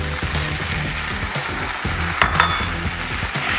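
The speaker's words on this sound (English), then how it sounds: "We're adding the spinach first" Loud, steady sizzling and frying as spinach goes into a hot pan for a Greek omelet, with stirring and scraping clatter over a continuous hiss.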